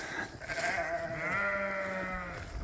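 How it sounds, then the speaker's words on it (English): Sheep bleat across an open field, several wavering calls overlapping and carrying at moderate distance, with a long drawn-out bleat through the middle over steady outdoor background noise. "There's a whole bunch of sheep in the field here."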